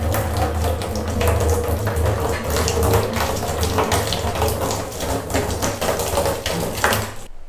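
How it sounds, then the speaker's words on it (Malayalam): Water pours from a 1-litre bottle into a drum for making an EM culture, a continuous loud splashing gush with no speech, running steadily until it stops just before the end. "1 ലിറ്ററിൻ്റെ കുപ്പിയിൽ 18 ലിറ്റർ വെള്ളം നമ്മൾ ഇതിലേക്ക് ഒഴിച്ച് കൊടുക്കുകയാണ്"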